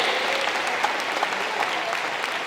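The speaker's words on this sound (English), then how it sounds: "Let's give them an applause" An audience claps for the Palestinians present at a talk on Gaza, a dense, steady applause that holds evenly throughout, close and fairly loud with no voices over it.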